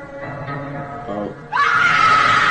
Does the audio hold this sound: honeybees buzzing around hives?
no